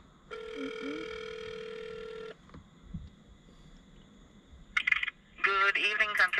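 A phone rings out on an outgoing call to a hotel: a long electronic ring tone for about two seconds, then a pause with faint noises, followed by short bursts as the call connects.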